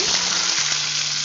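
Potatoes dropped into hot oil already holding nigella seeds, chilli and bay leaf, a sudden loud, dense sizzle burst right up close, brief and continuous.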